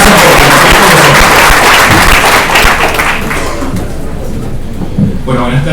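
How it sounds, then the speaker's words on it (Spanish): An audience gives loud, dense applause to welcome a speaker. The clapping is sustained for several seconds and then thins out and fades, with a few voices heard at the end. "a quien vamos a recibir con un muy fuerte aplauso, por favor"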